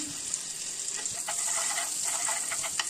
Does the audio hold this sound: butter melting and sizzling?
yes